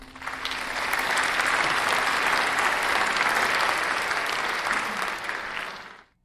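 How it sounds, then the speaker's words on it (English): An audience claps in a sustained, full round of applause, rising quickly and holding steady for several seconds before fading out abruptly. "So everyone, round of applause for Kyle."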